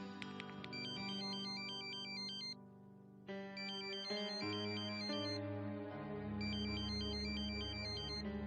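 A mobile phone ringtone plays while a call is being placed: a bright electronic melody loops in three repeated phrases over a steady backing, loud and close, with no talking.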